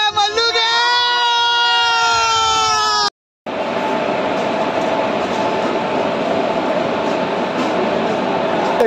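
A train at a railway platform, heard first as a loud tonal horn or screech for about three seconds, then after a brief cut as steady broadband rumble and platform noise with a faint crowd in the background.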